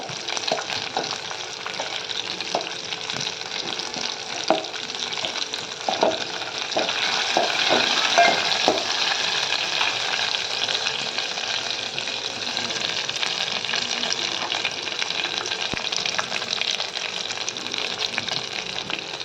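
Onion and garlic sizzle steadily and loudly in a hot pan, with scattered scraping clicks of stirring throughout.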